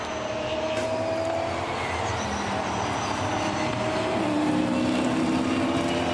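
Next-generation Chevrolet Camaro race cars at Vallelunga in the Superstars Series, engines droning steadily as they pass, with a tonal whine shifting pitch partway through and no commentary.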